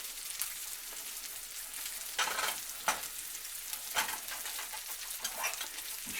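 Shrimp frying in a pan, a quiet, steady crackling sizzle with occasional sharper bursts as they are stirred.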